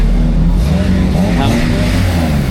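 The engine of a Series 1 Lotus Elise with a K20 swap revs loudly and close by at a winter cars and coffee meet, rising and falling over a constant rumble.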